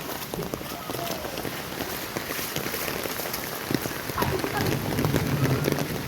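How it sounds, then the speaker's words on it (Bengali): Steady rain patters all around during a thunderstorm while footsteps slosh through water, with a voice talking over the wet, continuous hiss. "এখন জলের মধ্যে দিয়ে যাচ্ছি"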